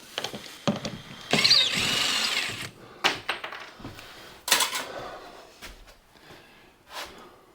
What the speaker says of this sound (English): Oh, the drill, please. No, the screwdriver one time.